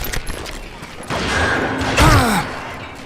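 Gunshots in the Western shooter game Call of Juarez: Gunslinger, a few sharp blasts with a heavier burst near the end over game ambience, loud and close.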